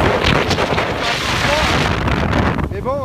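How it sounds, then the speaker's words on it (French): A Bombard 500 Explorer inflatable boat with a 50 hp Suzuki four-stroke outboard runs at speed, its engine buried under heavy, steady wind rush and water noise. A faint whine rises near the end. "on l'a équipé du 50 chevaux Suzuki 4 temps"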